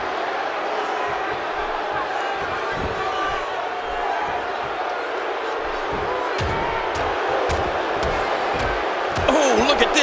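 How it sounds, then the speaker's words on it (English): A wrestling arena crowd in WWE 2K16 roars in a dense, sustained wash of cheering, with thuds and sharp slams from the ring rising through it and commentators talking over the noise. "by the sound of this crowd, I think they're getting what they wanted"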